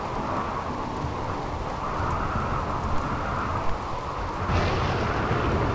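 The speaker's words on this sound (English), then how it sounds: "Oh, and now there's raining to put out fire." Steady rain falls in the colony-building game RimWorld, a dense continuous hiss that holds evenly throughout and swells slightly louder near the end.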